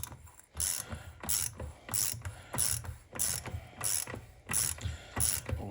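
A ratchet with a 36mm socket clicks on the rear hub nut of a VW Beetle, in a steady run of about ten evenly spaced ratcheting strokes, close and clear with no talk.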